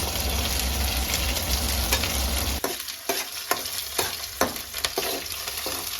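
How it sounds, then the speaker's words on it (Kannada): Curry leaves and green chillies dropped into hot oil give a loud, dense sizzle that breaks after a few seconds into scattered sharp stirring clicks and spatters, close up, with nobody talking. "ಇವಾಗ ಎಣ್ಣೆ ಕಾದಿದೆ, ಇದರೊಳಗಡೆ ನಾನು ಕರಿಬೇವು ಸೊಪ್ಪನ್ನ ಹಾಕೊಳ್ತೀನಿ"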